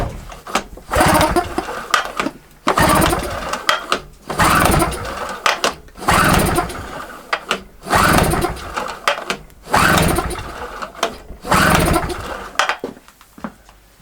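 A SIP Medusa T951 two-stroke petrol generator with the choke on being started: repeated loud, close pull-start bursts of sputtering engine that catch briefly and die, separated by short pauses, about seven attempts.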